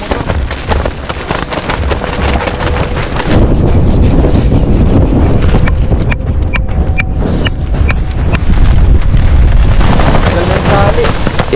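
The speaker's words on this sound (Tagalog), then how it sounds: "hahagupitin tayo ng isang napakalakas na bagyo" Strong typhoon wind roars across a campsite in Pagudpud, a loud, continuous buffeting rumble that hits the microphone in heavy gusts, with no speech over it.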